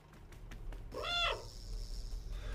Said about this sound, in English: But I just love being able to meow